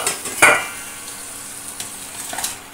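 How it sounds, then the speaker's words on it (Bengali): Chicken pieces drop into hot oil with ground spices for a Bengali country-chicken curry, setting off a loud sizzling burst followed by a quieter, steady frying hiss and a few utensil clinks. "মশলাটা কষে এসছে, এবার মাংসগুলো দিয়ে দেবো।"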